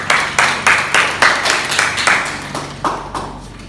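Rhythmic unison clapping from a chemistry class praising a student group, about a dozen sharp, loud, evenly spaced claps that slow slightly toward the end.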